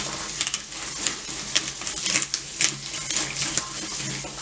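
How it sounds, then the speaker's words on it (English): A kitchen knife chops the ends off food on a cutting board, a string of sharp, close taps in an uneven rhythm, some coming in quick pairs, over a faint background hiss, with no talk. "I start off by chopping a little bit at a time"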